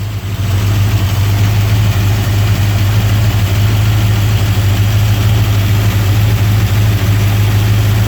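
A car engine fitted with a rebuilt Edelbrock 1405 carburetor, #9266 spacer and Mopar orange ECU idles with timing set at 7 degrees and vacuum advance connected. It gives a loud, steady, low rumble with no talk over it.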